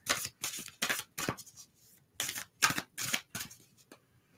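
Playing cards are shuffled in a series of quick riffling bursts, about eight short crisp rustles with brief pauses between them, close and fairly quiet.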